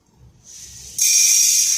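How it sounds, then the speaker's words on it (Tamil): Sesame seeds and rice-dish ingredients hit a dry griddle, a soft hiss that thickens halfway through and then jumps to a steady, bright, close crackling sizzle. "இப்போ வந்து நம்ம இதெல்லாம் போட்டு நம்ம வறுத்துக்கிடுவோம்"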